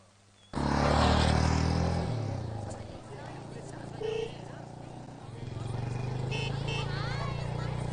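A motorbike ridden along a road, its engine rumbling steadily and fairly close, with people talking over it throughout.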